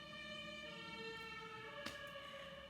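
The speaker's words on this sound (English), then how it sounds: "Oh, the sirens are getting louder." An emergency siren wails steadily at a distance, its tone holding level throughout, with a brief knock partway through.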